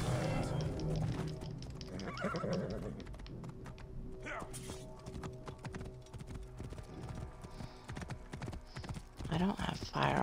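Hooves clip-clop steadily with a horse neighing in Assassin's Creed Origins, game-style effects layered over busy background sound, and a person talking over it.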